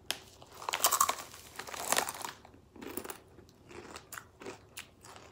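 Takis Blue Heat rolled tortilla chips crunched close up, a run of loud crisp bites and chewing crackles, denser at first and then in separate bursts, with no talking.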